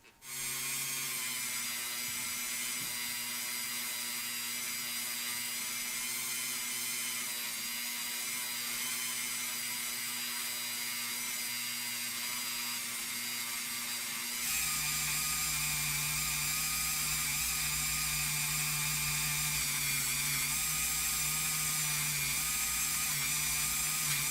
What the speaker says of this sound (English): Just going to give this a little polish with a brass wire wheelie.